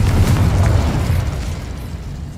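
Confringo blasting spell from a Harry Potter video game, a loud, dense explosive burst that rumbles heavily and slowly dies away over a couple of seconds, with no talk.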